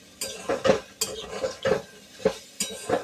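Curry leaves are stirred into an oil-free breakfast dish in a pan. A spoon scrapes and clinks against the metal in several uneven strokes over a faint sizzle, and no one speaks.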